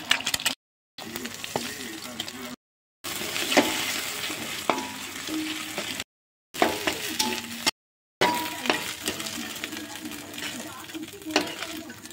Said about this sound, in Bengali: ভেজে ফেলছি পেঁয়াজ কাঁচা লঙ্কা এর মধ্যে ছেড়ে দিলাম।